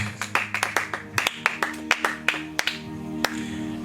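A church congregation claps to acclaim the name of Jesus, with quick rhythmic claps at first that thin out into scattered, fading hand claps over a low sustained musical tone.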